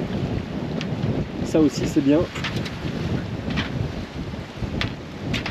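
Wind gusting at sea aboard a sailboat after a passing squall, a constant rushing buffet against the microphone with occasional thumps, loud and close, while someone speaks briefly in French.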